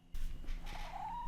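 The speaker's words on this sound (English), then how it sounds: "I don't know if you guys could hear, but that was my cat." A pet cat gives a single drawn-out, rising meow for attention, close and fairly clear over a low background hum.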